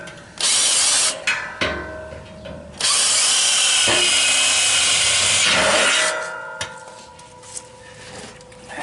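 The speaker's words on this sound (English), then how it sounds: "it's a little tough for me to get down and drill these holes" A power drill whines loudly and close up in several long bursts, biting through a metal drum barrel for a drum smoker, with short pauses and clicks between runs.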